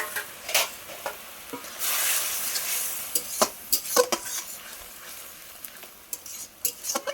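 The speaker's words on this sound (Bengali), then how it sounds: "এবার দিয়ে দেবো চিংড়ি মাছটা।" Prawns tipped into a pan of spice paste frying in oil, then stirred: a dense, steady sizzle with a louder hiss as they go in, punctuated by sharp scrapes and clacks of the spoon against the pan, close and without talk.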